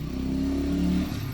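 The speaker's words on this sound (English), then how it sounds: "motorcycles, there we go" Motorcycle engines rumble past nearby, a steady low droning roar with a rising rev that peaks mid-pass, then eases slightly as the bikes move on.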